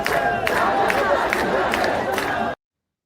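Large protest crowd in Iran chanting in unison, a loud, dense mass of voices with a steady rhythmic pulse of repeated phrases, close and continuous until it cuts off abruptly.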